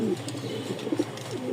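Domestic pigeons, Rajshahi Giribaz tumbler breeds, coo softly in short, repeated low calls close by, with background voices and some bird chirps.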